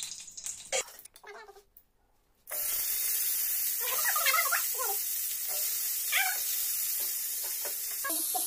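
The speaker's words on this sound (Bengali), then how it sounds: "পেঁপে আর গাজর আগে ভেজে নিচ্ছি আমি একটু মাংস দেওয়ার জন্য" Papaya and carrot pieces hit a little hot oil in a pan and sizzle loudly and steadily after a quiet start, with occasional stirring clatters near the microphone and brief speech before the frying begins.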